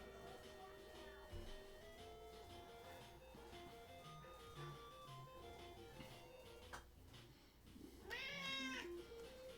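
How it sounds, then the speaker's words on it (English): Pet cat meowing several times indoors while an Ultima IV NES game soundtrack plays in the background, the meows close and insistent and rising toward the end, with a person talking softly to it. "Meow."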